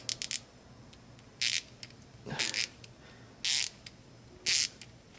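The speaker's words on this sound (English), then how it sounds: "I would throw on a 1/4 inch ratchet" A 1/4 inch ratchet ticks in short bursts of rapid clicks separated by pauses, close up and fairly quiet with no talking.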